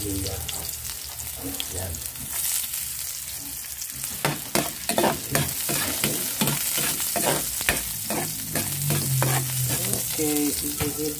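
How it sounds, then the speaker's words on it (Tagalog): Ginger toasting in a hot pan hisses and sizzles while a utensil scrapes and stirs it in quick irregular strokes. A voice speaks briefly once. "Ang sekreto rito para medyo tostahin nyo yung luya para lumasa talaga yung luya"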